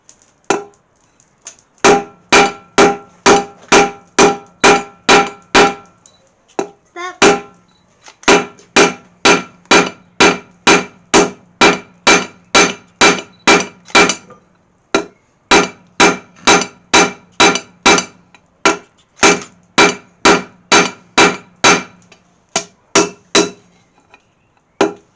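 Hot metal is hammered on an anvil while forging a Mjolnir pendant: loud, ringing blows struck in rapid, steady bursts, with short pauses between runs.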